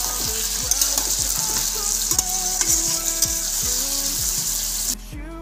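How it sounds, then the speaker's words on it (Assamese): Meat frying in a hot pan, a loud continuous sizzle broken by repeated scraping strokes as it is stirred, ending abruptly near the close. "এতিয়া মাংসখিনি দি দিম মাংসখিনি দি দিলোঁ এতিয়া মাংসখিনি ভাজি ৰাখিম"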